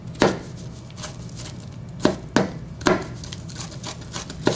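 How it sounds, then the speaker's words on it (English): A knife mincing an onion on a cutting board gives crisp, close knocks against the board, spaced irregularly, with light scraping between strikes and no talking. "This is an onion that we're mincing for a particular recipe that calls for minced onion."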